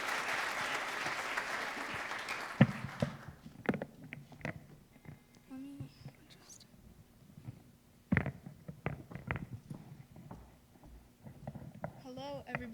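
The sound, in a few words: audience applause at winter concert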